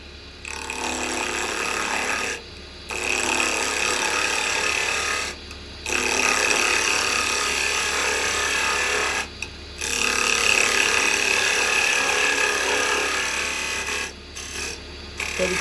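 A carbide chisel cuts a tenon on a spinning piece of old fence post wood on a lathe, a steady loud rasping scrape in long passes broken by brief pauses, close up.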